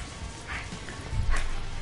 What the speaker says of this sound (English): It is absolutely mayhem in here with these dogs right now.